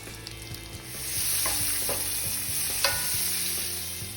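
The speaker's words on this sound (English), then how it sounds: "In goes our garlic." Garlic frying in a mix of oil and butter in a cast iron skillet gives a close, steady sizzle with light stirring scrapes, no voices.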